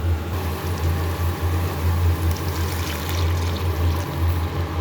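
Water pours steadily into a cooking pot holding snake gourd, a continuous close gushing and trickling sound with a low rumble, no talk.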